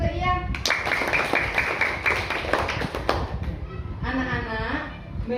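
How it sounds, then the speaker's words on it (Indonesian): Pupils in an Indonesian primary classroom clap for a classmate after a good question, a brief patter of hand claps rising over steady room murmur and voices, fading as the teacher resumes talking. "Tepuk tangan untuk Ian."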